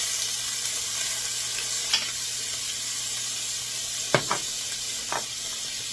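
Mushrooms fry in ghee in a pan with a steady, soft sizzle and hiss, broken by a few brief clinks of a utensil stirring, and no talking.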